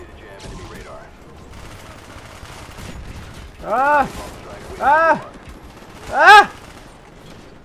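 MP5 submachine gun fire in Black Ops on PC, heard as three short loud bursts spaced about a second apart, with a brief exclamation and game noise around them.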